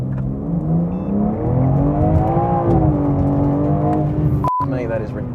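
A 2023 BMW M4 Competition with titanium exhaust launches hard from launch control, its engine note climbing loud and close through the revs before a sharp break at the gear change, then pulling again.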